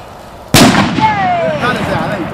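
A single loud firework bursts at a bonfire night with a sharp bang, followed by a crackling, whistling tail and excited shouts from people nearby.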